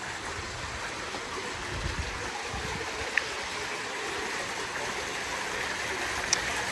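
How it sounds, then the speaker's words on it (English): Pool waterfall cascading into a hot tub in the backyard of a Lake Havasu home, a steady soft rushing wash of falling water, faint and continuous. "a waterfall cascade at the hot tub"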